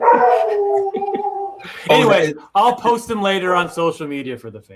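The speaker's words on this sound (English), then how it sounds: "Whose dog was that just howling? That's my dog." A pet dog howls in the background during a live online chat, a drawn-out wavering howl with a few yips beneath someone speaking in the foreground.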